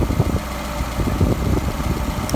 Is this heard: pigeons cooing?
no